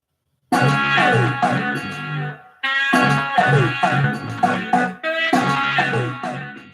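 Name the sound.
played recording of a music beat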